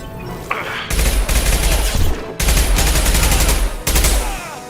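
Rapid bursts of heavy automatic gunfire from an impact shot in the Mass Effect video game, loud and dense, broken by brief gaps between volleys.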